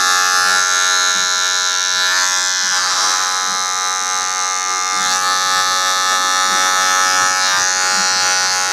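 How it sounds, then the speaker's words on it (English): An electric hair clipper buzzes steadily and loudly up close as it glides lightly over skin during a low skin fade haircut, a continuous whine with slight shifts in tone and no talking. "I'm just letting the clipper glide."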